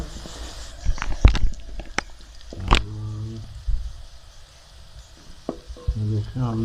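Onions sizzle and brown in a pan for chicken korma, a soft frying hiss with several sharp utensil clicks and scrapes as they are stirred.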